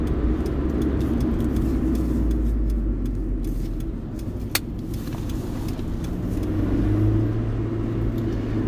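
Steady low engine and road rumble from inside a 2005 Acura RSX Type S with a stock clutch, heard close and binaural on the move, with a single sharp click partway through and no talking.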